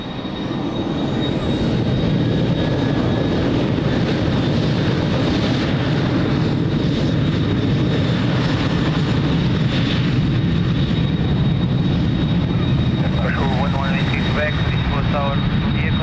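An airliner takes off from runway 02 at Lisbon Airport, its engines roaring loud and sustained throughout with a steady broadband rush, while a radio voice talks over the noise.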